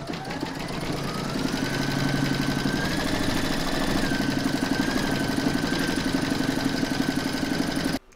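An embroidery machine stitches a pig applique outline with a loud, steady mechanical whirr and rapid needle chatter that runs continuously and stops abruptly at the end.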